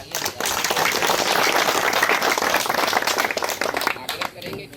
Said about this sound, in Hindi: इनके लिए एक बार जोरदार तालियां